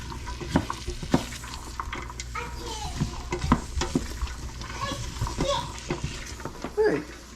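A medium yellow sweet Vidalia onion frying with chopped carrots in a pot for potato soup, with continuous sizzling and repeated stirring scrapes and clatter, close and fairly loud, with a voice talking over it.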